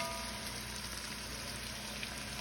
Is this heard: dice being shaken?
no